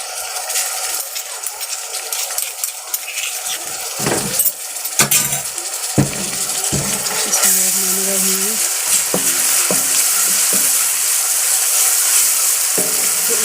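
Garlic and ginger paste sizzles in hot oil with browned onions for a chicken shaljam dish, a steady loud frying hiss broken by clinks and scrapes of stirring.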